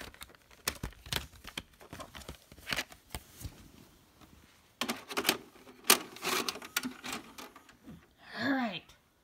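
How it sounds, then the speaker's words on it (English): A videotape is pushed into a player and loaded, giving a run of clicks, clacks and mechanical rattles. A loud clunk comes partway through, followed by a short whirring, sweeping tone as the mechanism engages. "let's see what happens when I put the tape in."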